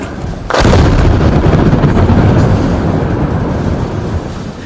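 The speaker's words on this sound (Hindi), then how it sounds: "पहले एक छोटा धमाका हुआ" A roadside explosion in Azerbaijan breaks out as one sudden, very loud blast, then a sustained heavy roaring rumble that slowly eases off.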